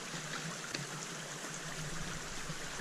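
River water at St Nectan's Glen, a steady soft rushing flow, faint and continuous, with no talking.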